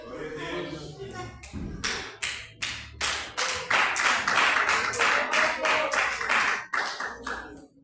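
A church congregation claps hands in a steady rhythmic beat during a worship service, sharp close claps over a spoken voice.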